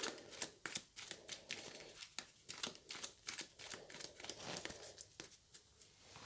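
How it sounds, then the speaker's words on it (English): A deck of sleeved cards shuffled during a tabletop board game, a quick run of crisp riffling and slapping bursts, close and fairly quiet, repeating irregularly without talk. "we'll shuffle the force deck that we had remaining because I've sleeved those"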